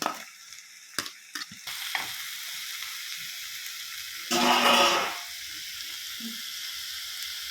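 Small boneless chicken pieces tipped into a hot pan for chicken fry, a few knocks and clatters giving way to a steady loud sizzle that surges briefly midway, then settles into continuous frying hiss.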